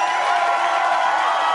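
Studio crowd at a game show prize round breaks into steady cheering and applause, a loud, even wash of claps and voices with high whistle-like tones layered through it.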